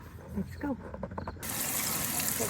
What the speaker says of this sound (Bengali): আমি লাউ পাতাগুলো ধুয়ে নিতেছি